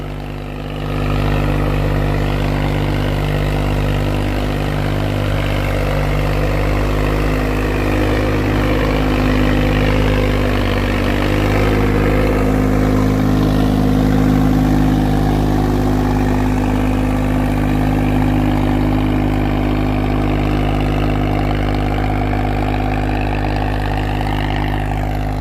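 A new Swaraj tractor with an opened harrow attached idles close by, its engine giving a loud, steady, even rumble that holds throughout with no talk over it.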